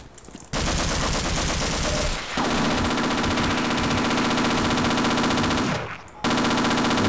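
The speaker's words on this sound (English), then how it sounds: "Good, a turret sequence." Turret machine-gun fire in the Half-Life video game, with loud, rapid continuous bursts that stop briefly twice before firing resumes.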